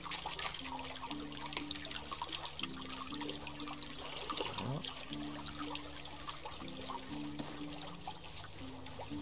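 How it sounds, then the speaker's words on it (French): A small stream in the Medieval Dynasty video game: a gentle continuous trickle and babble of water alongside soft looping background music, steady throughout with no speech. "Ah, petit ruisseau, je vais boire un coup."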